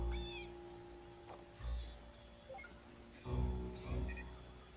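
A cat meows in the video game Impostor Factory, several separate mews spread across a quiet background, some short and some drawn out, faint and fairly close with no talking.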